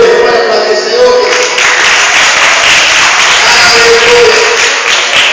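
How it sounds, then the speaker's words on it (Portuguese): Congregation applauding in a Pentecostal church service in Uberlândia, a steady dense wash of clapping filling the room throughout, with voices faintly calling out beneath it. "Pode aplaudir, Senhor."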